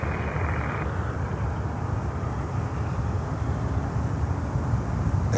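A Lufthansa Airbus A350-900 from Munich passes overhead as a steady, loud jet roar with broadband rumble that holds through the whole stretch, mixed with wind noise and no voices.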